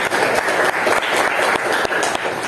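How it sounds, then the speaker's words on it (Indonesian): Classroom applause for a classmate: a group of students claps together in a loud, fairly rhythmic burst, with periodic pulses of clapping close by and no talk over it. "cukup tepuk tangan buat temannya dulu semuanya"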